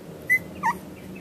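A puppy lets out two short, high-pitched whimpers close by, separated by a brief pause, over a faint background hum.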